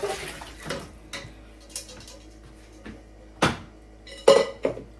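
A half-cooked pigtail goes into a cooking pot with a series of sharp metallic clanks and clatters of pot and utensils, spaced irregularly over a quiet background, with the loudest knocks near the end.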